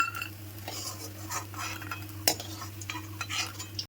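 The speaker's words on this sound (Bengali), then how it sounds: "বড়াগুলো এবার তুলে নেব" Fried split-pea fritters lifted out of a pan with a metal utensil: steady clinks and scrapes against the pan over a low background hum and faint sizzle, with one sharp knock partway through, no voices.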